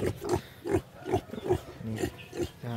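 Pigs kept in a backyard farm grunt in a steady run of short, rhythmic snorts, close and fairly quiet, with no voices over them.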